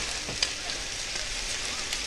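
Breakfast frying in a pan on a stovetop, a steady broadband sizzle holding at an even level throughout with a few faint clinks, no talking.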